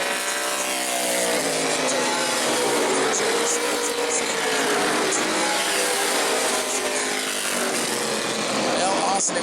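Modified race cars roar around the New Smyrna track, engines droning loud and continuous with rising and falling pitch as the pack passes. An announcer calls the race over the engine noise throughout.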